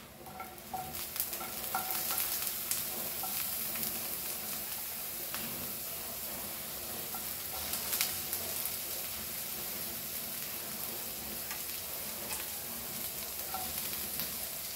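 Spices and onion roasting in a pan for Goan-style Akhi Masoor dal, a faint steady sizzle with occasional stirring scrapes and pops, close and alone without talk.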